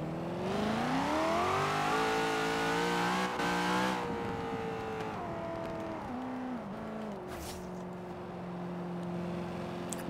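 Chevrolet Camaro ZL1 1LE engine revving hard, a loud rising roar with sweeping pitch changes that drops back to a lower drone partway through, close and alone without talk.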